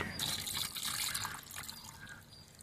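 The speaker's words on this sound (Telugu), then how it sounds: "ఉసిరికాయలు మునిగేటట్లుగా నీళ్లు పోసుకోవాలి" A steady stream of water pours and trickles over something in a bowl, close by and fairly soft, tapering slightly toward the end.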